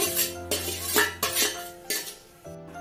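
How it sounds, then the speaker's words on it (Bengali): A ladle scrapes and clinks against a pan while crumbling and mixing chhena made from milk, giving about six distinct metallic knocks in an uneven rhythm. "সেটাকে আমি হাতা দিয়ে গুঁড়ো গুঁড়ো করে দিয়ে দিচ্ছি, মিশিয়ে দেব।"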